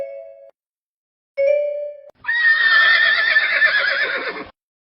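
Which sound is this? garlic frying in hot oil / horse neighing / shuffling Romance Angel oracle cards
horse neighing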